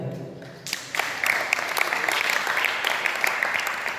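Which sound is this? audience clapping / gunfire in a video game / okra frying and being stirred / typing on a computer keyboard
audience clapping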